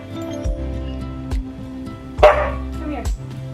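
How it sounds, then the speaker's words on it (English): A dog barks indoors in short, loud bursts, about four woofs spaced unevenly over a few seconds, close to the listener. "Can we like stop barking?"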